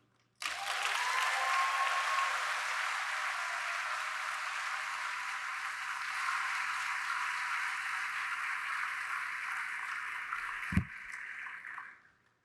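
A university orientation audience applauds to welcome a speaker, steady broad clapping that holds for about ten seconds, then a single thump before it fades out.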